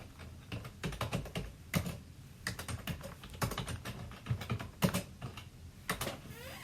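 Steady bursts of computer keyboard typing with short pauses between runs of keystrokes, close and clear with no talking.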